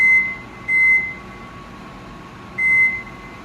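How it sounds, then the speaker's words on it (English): An oven timer beeps in a kitchen, three distinct electronic beeps: two close together, then a pause, then a third, clear against a quiet background hum. "Set your timer for the least amount of time, which is 12 minutes."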